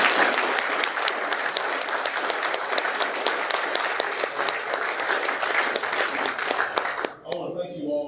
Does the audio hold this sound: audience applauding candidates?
yes